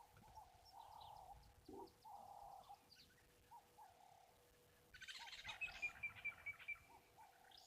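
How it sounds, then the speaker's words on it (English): A grey go-away bird calls with low, repeated nasal notes at a quiet waterhole, followed by a brighter burst of chattering calls from another direction. "There's a grey go-away bird calling now as well."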